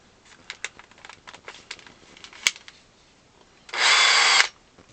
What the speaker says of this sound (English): Some little holes I'm going to drill.